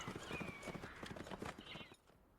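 A horse's hooves clip-clop in a quick galloping rhythm through a scene in a Sweeney Todd audio drama, steady and moderately close, then breaking off suddenly into near silence.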